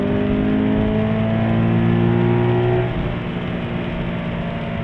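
A 2017 Subaru BRZ accelerates hard on a racetrack, engine droning loud and steady from inside the cabin, pitch climbing through the gear before easing off.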